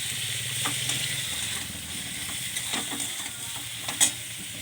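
Spiced cauliflower curry sautéing in a pan, a steady close sizzle broken by scattered scraping stirs and a sharp clink near the end, with no voices.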